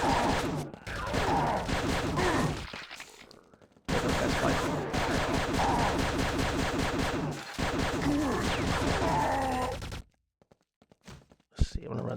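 A gun in the game Rapture fires in long sustained bursts of rapid shots, broken by short pauses, then falls mostly quiet with a few isolated faint clicks at the end.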